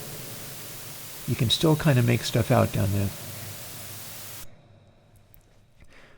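Broadband TPDF dither hiss from an audio plug-in, reducing a signal to about 4 bits, sits as a steady noise floor under a man's brief speech, then drops to near silence near the end.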